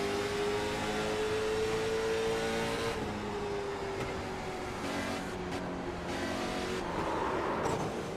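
Onboard late model race car in iRacing at Kern Raceway, a steady loud engine drone with a sustained tone that shifts pitch through the lap, no talk over it.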